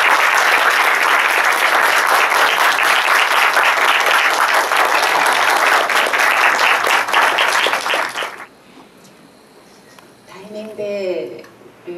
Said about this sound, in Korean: 큰 박수 좀 부탁드릴게요.